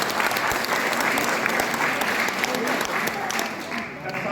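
Sustained audience applause at a Batak community Christmas service in the Netherlands, dense and steady clapping holding for several seconds before easing slightly at the end, with voices mixed in underneath.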